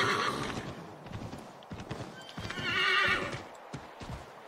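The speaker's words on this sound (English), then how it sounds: "Come on, you can run faster! Faster, horse, faster!" A horse in Assassin's Creed 3 gallops with rapid, rhythmic clip-clop hoofbeats and gives a loud whinny partway through, all close and prominent.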